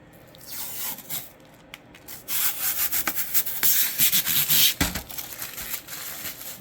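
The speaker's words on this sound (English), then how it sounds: "we can do the satisfying part of peeling the acrylic" Protective film peeled off an acrylic PC case panel, heard as close, irregular rubbing and crackly tearing bursts that grow louder and more continuous in the second half, with no speech.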